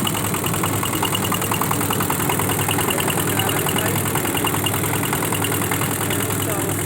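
A small wooden motor boat's engine chugs steadily and loudly close by on a river crossing to a char, an even, knocking drone throughout with people talking over it.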